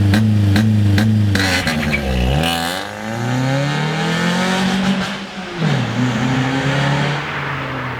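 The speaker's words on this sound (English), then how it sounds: "So did you notice that when I floored it, the tires, they screeched a tiny bit" A car engine roars hard as it launches at full throttle using launch control, revving up through the gears with a rising whine and a brief tire screech, loud and close.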